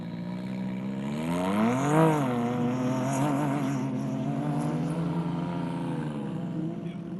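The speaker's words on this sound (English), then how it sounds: "That's the 410 pulling up to the line. Be interesting because that's a non-turbo car." A non-turbo rally car rolls up to the start line of a stage at the 2025 Abu Dhabi Desert Challenge, with a continuous engine note that rises in a brief rev around the second mark, then settles into a steady, moderately close drone.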